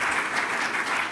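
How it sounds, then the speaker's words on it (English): A lecture audience gives a round of applause for the panel at the Stop MS annual lecture, a brief, even burst of steady clapping without voices. "Can we give the panel a round of applause?"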